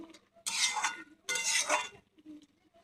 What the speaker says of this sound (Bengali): ভালো মতো নেড়ে চেড়ে নেব।